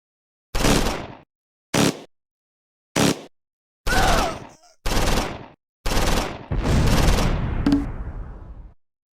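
Gunfire from a crossfire in the World War II strategy game Close Combat 4, Battle of the Bulge: a series of sharp, separate bursts with clean silences between, ending in a longer sustained volley.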